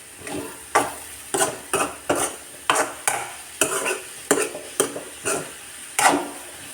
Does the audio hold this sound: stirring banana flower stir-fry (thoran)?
yes